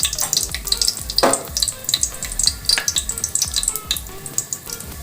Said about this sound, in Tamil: நெய் காஞ்சிருச்சு. இப்போ நம்ம தாளிக்கிற சாமான்லாம் போட்டுக்கலாம்.